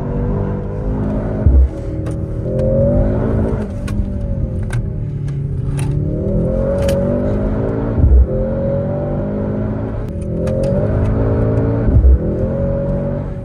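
A 2023 Mercedes-AMG C63 S E-Performance on the road revs and accelerates through repeated gear changes, pitch climbing then dropping with each shift, loud and close.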